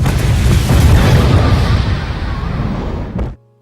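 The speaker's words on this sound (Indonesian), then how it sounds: "ranjau meledak di sekitar mereka" Landmines go off in a film scene, a loud, sustained rumbling blast that fills the air for about three seconds before cutting off abruptly.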